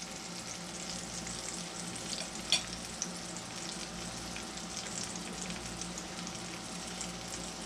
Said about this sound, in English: Just let them sit there and fry